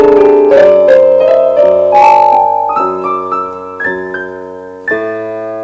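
A piano plays a slow solo phrase from a song: a rising line of sustained notes over held chords, each struck note ringing clearly and fading, alone without speech.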